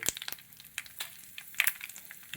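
Dried red chillies, four of them split down the middle, crackle and spit in hot oil for a beetroot pachadi, with sharp scattered pops over a faint sizzle and no talking.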